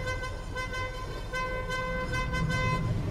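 A car horn in GTA 5 blares as one steady, loud, continuous tone over road and engine noise, with no talk.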